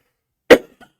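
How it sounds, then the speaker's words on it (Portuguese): A single sharp cough bursts out close to the microphone, followed by a faint little throat sound, then silence. "Uma tosse incômoda"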